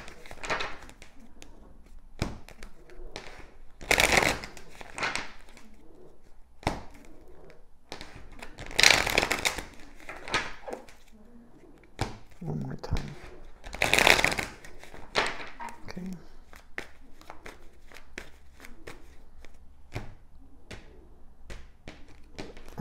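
Tarot cards shuffled by hand in three short, crisp bursts spaced a few seconds apart, with quiet rustling and light taps between them and no clear talk.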